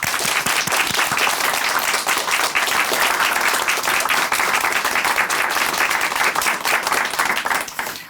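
A studio congregation on a church testimony TV program claps in sustained, even applause. The crowded patter stays loud and continuous, then tapers slightly at the end.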